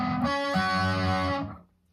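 Guitar plays a verse riff, a repeated sustained riff with effects, loud and alone, fading out at the end.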